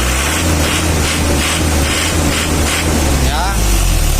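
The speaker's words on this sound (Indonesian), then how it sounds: "kalau sudah mesin bunyi krak itu pecah" A Mitsubishi L300 diesel engine running rough with a cracked, harsh knock, a loud continuous rattling idle close by with uneven pulses, while someone talks over it.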